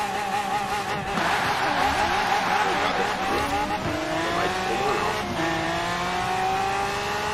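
A V12 Lamborghini Aventador races in Forza Horizon 4, its engine revving hard and climbing through gears with a shifting whine, tire squeal mixed in, steady and loud throughout.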